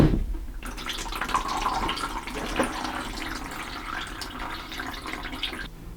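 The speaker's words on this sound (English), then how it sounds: "we got to use that squirt bottle and rinse it and let the water come out here" Water rinsed with a squirt bottle through a PC water-cooling block while a custom Threadripper 1950x loop is drained, a close, continuous splashing trickle and drip with no talking.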